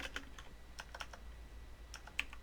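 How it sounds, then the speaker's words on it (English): Fast typing on a computer keyboard during game development work, a quick irregular run of light clicky keystrokes with a sharper key tap near the end, close and fairly quiet with no talking. "I just want to quickly type in body"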